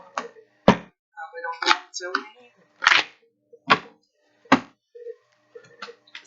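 Tarot cards shuffled by hand, a series of short, crisp riffling bursts at an irregular pace, close and fairly loud with quiet gaps between them.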